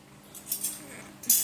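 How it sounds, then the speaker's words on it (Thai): A spoon and fork handled before a meal of Japanese instant noodles, giving a few light metallic clinks and a brighter chink at the end, close and soft. "ที่ขาดไม่ได้คือ ช้อนส้อมค่ะ"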